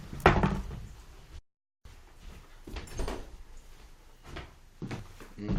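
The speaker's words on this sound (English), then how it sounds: "Let me shut my door." Someone shuts a door indoors, producing a few close wooden knocks and thuds, with a short silent gap among the handling noises.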